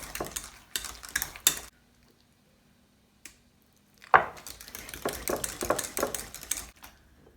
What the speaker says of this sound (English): I'm gonna add 1 egg at a time. Mixing quickly so it doesn't scramble.